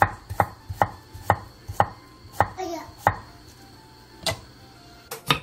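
A knife slicing cucumber on a cutting board: crisp, evenly spaced chops repeat in a steady rhythm, close and clear, with a brief pause partway through and no voices.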